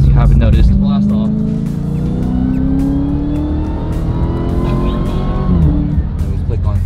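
An 840-horsepower Dodge Demon accelerates hard: a loud, close engine roar climbs steadily in pitch for several seconds, then drops off near the end.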